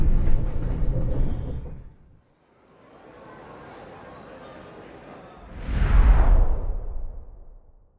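EuroCity Direct train pulling out of Brussels station toward Antwerp, a low rumbling roar that fades to a quiet hiss, then a loud passing whoosh swells up and trails away.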